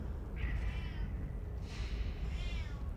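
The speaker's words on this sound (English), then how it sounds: "that is a very shouty kitty" A shouty house cat yells out two or three drawn, wavering meows over a constant low rumble of background noise, moderately close.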